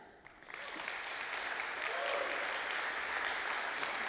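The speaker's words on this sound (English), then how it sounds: "thank you for the applause" Steady applause from a sizable audience at a startup accelerator demo day in Georgia, rising quickly after a quiet start and holding at full strength throughout.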